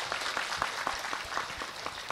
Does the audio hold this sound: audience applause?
yes